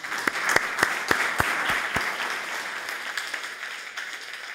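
Audience applause greeting a panel at a climate conference in New York: steady, fairly close clapping from a crowd, with a few sharp individual claps standing out at the start and the sound holding evenly throughout.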